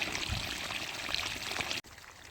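Water from a garden hose pours steadily onto garden soil with a constant rushing splash, then cuts off abruptly near the end, leaving quiet background.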